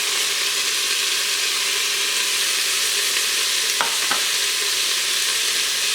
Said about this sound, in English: I have set it to the saute function. And I'm just going to drop my bacon right in.